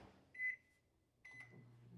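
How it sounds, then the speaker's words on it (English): An 1100-watt microwave oven runs on high while meringue is made, giving a steady low hum with two brief brighter whirring surges, close and moderately quiet, with no talk. "all we have to do is microwave this for 3 minutes"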